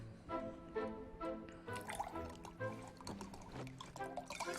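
Wine poured into a glass, a faint gurgling, trickling stream with small splashes and drips, fairly close, with some faint background voice.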